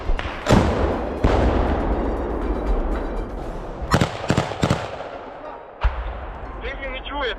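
Heavy enemy gunfire and explosions in combat footage from a forest in Luhansk region: repeated sharp loud bangs and thuds, some in quick bursts, scattered over a rumbling background, with voices speaking at times.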